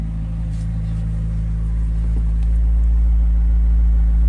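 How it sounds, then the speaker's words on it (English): A McLaren 600LT, a 600-horsepower lightweight supercar, idles steadily with a deep, even rumble that holds close and loud throughout, with no revving. "It sounds good, you know, as a 600 horsepower lightweight supercar should."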